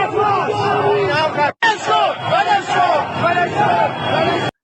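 A protest crowd in Iran chants in loud, rhythmic unison against the dictator. The massed voices rise and fall steadily, with one brief cut-out early on.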